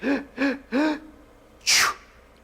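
An animated character's cartoonish voice builds up with three rising gasps, then lets out one loud, sharp sneeze close by, followed by quiet.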